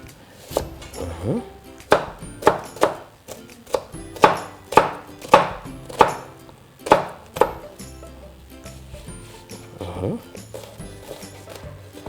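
Onion being chopped on a board for a bean stew, a run of sharp regular knife thuds, close and distinct, with a pause and a few more cuts near the end while someone speaks.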